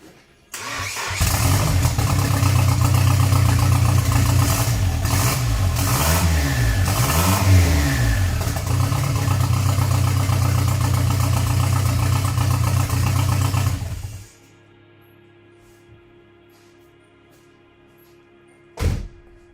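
A turbocharged Nissan S13 240SX engine, running rich, cranks and fires, then idles and revs in several rising and falling bursts for about thirteen seconds before shutting off, loud and close, with a thunk near the end.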